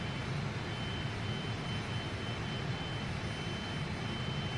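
Fokker 28 jet engines during a climb in a flight simulator game, heard as a steady broadband roar with a constant low rumble and a thin high whine, continuous and even, with no talking.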